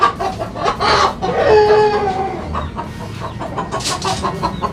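Fancy hens and a rooster kept at a home poultry farm, clucking and crowing close by, with a drawn-out crow in the middle and busy clucks around it.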